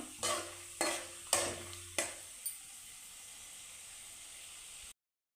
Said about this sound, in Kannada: ಸ್ವಲ್ಪ ಕಡಲೆಬೇಳೆ ಸ್ವಲ್ಪ ಉದ್ದಿನಬೇಳೆ ಇದನ್ನು ಚೆನ್ನಾಗಿ ಫ್ರೈ ಮಾಡ್ಕೊಳ್ಳೋಣ